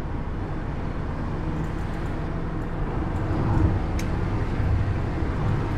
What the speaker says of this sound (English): There's a fair bit of road noise, but that's not unusual in the Antipodes